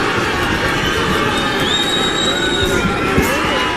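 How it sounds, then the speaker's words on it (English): A boxing crowd at the 2022 Thurman vs Barrios fight stands and cheers to urge Barrios on in the final round, a loud, continuous roar of voices with scattered shouts. "The crowd is standing up, trying to encourage El Azteca in the final round."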